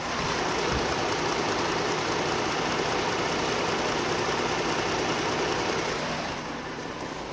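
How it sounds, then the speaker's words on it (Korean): A 2018 Jeep Grand Cherokee engine idles steadily at close range with the hood open, a smooth even hum with no talking, easing slightly quieter near the end. "엔진음 들려드릴게요"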